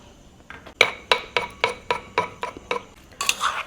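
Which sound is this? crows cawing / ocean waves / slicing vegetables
slicing vegetables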